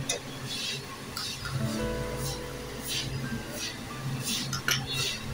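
Spoon stirring salt into a fasting-style varicha dosa batter made without turmeric, with scraping and clinking against the bowl that repeats for several seconds at close range, along with faint background noise.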